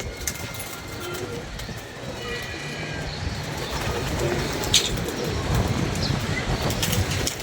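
Pigeons coo softly amid a constant rumbling background, with a few sharp clicks and faint distant sounds over the steady noise.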